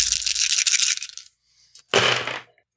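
Gaming dice shaken in a hand for a roll, a bright clattering rattle that stops and then a second short burst, close and alone.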